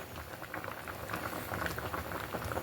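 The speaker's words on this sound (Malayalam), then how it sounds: "അപ്പോൾ കണ്ടോ, നമ്മുടെ കൂട്ടാൻ നന്നായിട്ട് തിളച്ച് വരാൻ തുടങ്ങി." Drumstick (moringa pod) curry boiling steadily in a pot, a continuous close bubbling and popping patter with no voices.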